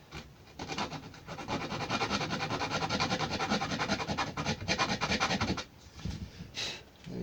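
Wood being hand-sanded for a DIY Batman wall lamp: steady, rapid back-and-forth rasping strokes, close and continuous for several seconds, then a short pause and a few more strokes.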